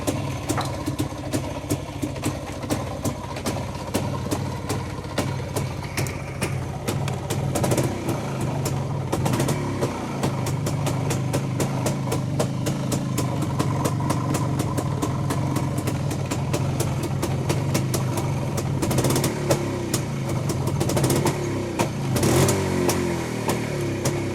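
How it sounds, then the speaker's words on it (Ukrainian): A Jawa motorcycle engine fitted with a 262 ignition switch unit starts and keeps running with a rough, steady idle and a few revs, loud and close, with no talking. "А ну попробуй завести."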